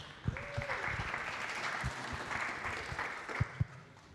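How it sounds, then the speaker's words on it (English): An audience claps steadily in a dense, even patter for several seconds, with a few sharper nearby claps standing out. "Please give them a welcome round of applause."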